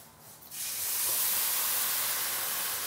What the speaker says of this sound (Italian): aggiungo il vino